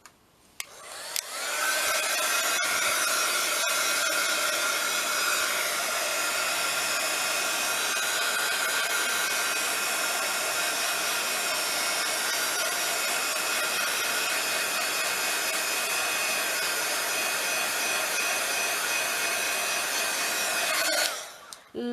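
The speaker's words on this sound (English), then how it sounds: "I'm going to go over that with my heat gun," A heat gun blows hot air over wet paint in an art journal, a loud, steady whooshing hum running unbroken for about twenty seconds before switching off.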